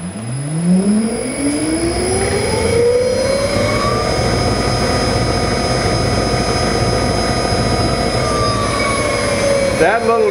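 A small generator used as a car alternator runs up to speed with a rising whine, then holds a loud, steady mechanical drone and hum throughout, close by, with no speech over it.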